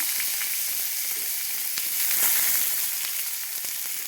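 Chopped onion fries in a pan with nigella seeds over a lowered gas flame for black chana masala, a loud, continuous hissing sizzle with brief crackles and no speech.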